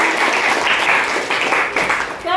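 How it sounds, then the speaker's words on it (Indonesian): A class of students claps together, a dense burst of applause that continues steadily and then ends as a voice begins to speak. "Iya, tepuk tangan."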